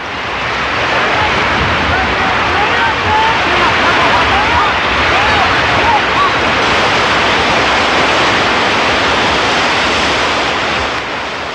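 Flood water rushes through an arroyo in a loud, continuous roaring wash of broadband noise. It swells in after a moment and holds steady until it fades near the end.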